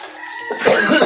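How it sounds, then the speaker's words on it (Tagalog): A single short cough, loud and close, preceded by a faint high squeak. "Ano na yung ubo ba?"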